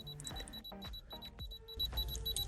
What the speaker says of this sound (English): Constant beeping indicates a temperature.